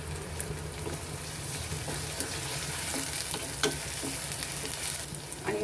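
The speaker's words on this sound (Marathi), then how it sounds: "मी एक पळी तेल घालती आहे, याच्यामध्ये थोडं जिरं घालून घेते आहे, कांदा, अगदी थोडंसं आलं लसूण पेस्ट" Cumin, onion and ginger-garlic paste fry in a ladle of hot oil, giving a steady close sizzle with soft crackles and stirring taps, with no talking.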